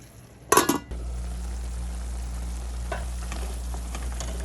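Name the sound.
eggs frying in a pan with tomato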